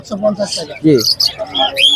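Budgerigars and doves at a busy outdoor bird market chirp and warble in quick, bright, overlapping calls, with low cooing underneath and a voice speaking among them.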